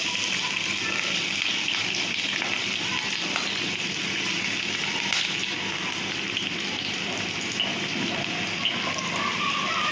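Three chopped onions fry in a pan for Rajasthani laal maas, giving a steady, dense sizzle that holds at an even loudness throughout.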